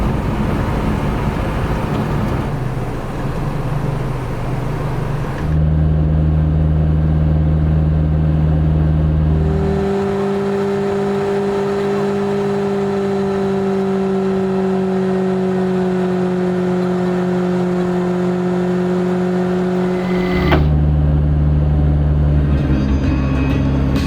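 A car engine drones steadily and loudly throughout a drive in Thailand, its pitch shifting as the vehicle changes speed and gears, with no talk over it.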